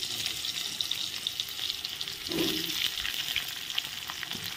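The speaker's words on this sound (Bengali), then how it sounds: "একই তেলে আলুগুলো ভেজে নেব" Steady, crackling sizzle of potatoes frying in hot oil, close by, with one brief softer bump partway through and no talking.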